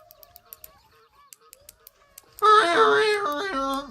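Waterfowl in the fishing game Fishing Planet give a loud burst of honking, several overlapping calls after a stretch of quiet ticking reel clicks.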